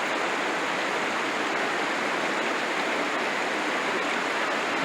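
Gold Creek flows steadily past a bank, a constant broadband rush of running water that holds close and loud and unbroken, with no voices.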